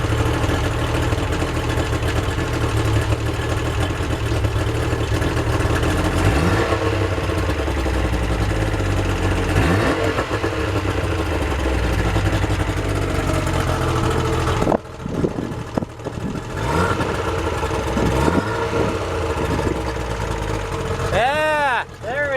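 A Yamaha outboard boat engine runs loud and close, holding a steady drone before rising in several revs and settling back, with a person talking over it.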